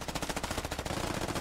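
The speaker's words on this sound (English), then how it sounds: "U.S. gets their celebratory gunfire in." Rapid automatic gunfire in the Squad video game, U.S. faction firing in celebration at the end of a round; a dense, continuous rattle of shots heard alone without talk.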